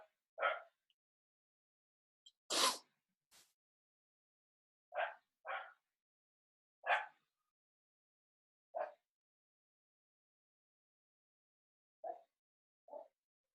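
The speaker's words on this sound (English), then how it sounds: "that's my dog barking" A dog barks in short, separate bursts with long silent gaps between, about ten sharp yaps spread over the stretch, fairly close.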